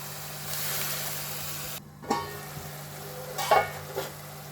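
Spice masala for aloo moong badi sabzi frying in oil in a pan, a soft steady sizzle with a few brief stirring scrapes.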